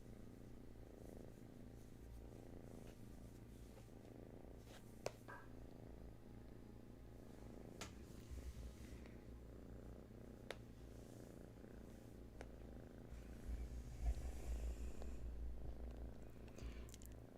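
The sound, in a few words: sleeping kittens purring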